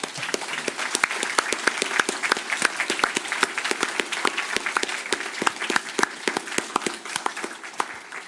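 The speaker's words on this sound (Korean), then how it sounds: "I'd just like just give a round of applause to everyone." Audience applause at a Christmas cantata, dense steady clapping from a crowd that carries on for the whole stretch.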